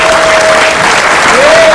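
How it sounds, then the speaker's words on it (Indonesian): Dense, loud studio audience applause on an Indonesian TV game show, a continuous wash of clapping that holds steady throughout the short stretch. "Tepuk tangan dulu dong"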